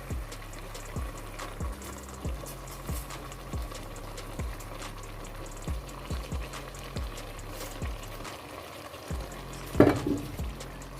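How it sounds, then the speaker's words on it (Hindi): Mutton masala cooks in a cup of oil, with a steady sizzle and repeated rhythmic stirring scrapes at close range, and one louder clatter near the end. Nobody speaks. "अब मैं इसमें 1 कप ऑयल का डालूंगी।"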